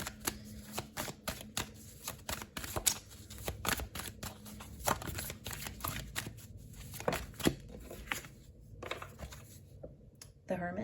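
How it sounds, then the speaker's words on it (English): A deck of tarot cards is shuffled by hand during a relationship reading, giving repeated riffling and flicking bursts of card noise close by throughout, with occasional soft voice underneath. "using the same deck, I'm going to pull a few cards for you in this relationship"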